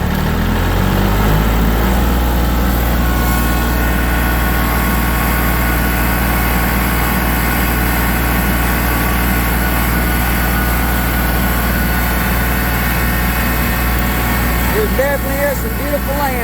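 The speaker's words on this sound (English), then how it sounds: "I'm fixing to crank the tractor back up" A tractor engine running steadily, with a loud, constant low rumble throughout and a voice in the background.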